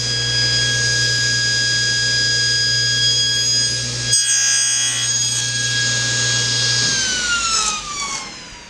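A table saw cuts a dovetail joint in a wooden board held on a sled, giving a loud, steady high whine that drops into a cutting bite and then spins down at the end.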